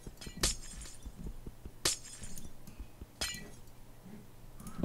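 Glass blocks shatter one after another in Minecraft, three separate bright crashes spaced a second or so apart over a quiet background of soft game sounds.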